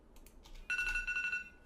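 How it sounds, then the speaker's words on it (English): An alarm clock going off at about 5 a.m., a bright electronic tone pulsing in a steady repeating pattern for about a second, preceded by faint tapping. "That is my alarm clock because it's about 5 a.m."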